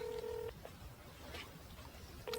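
A telephone rings in a home, one electronic ring tone followed by a pause and the start of another, quiet and alone.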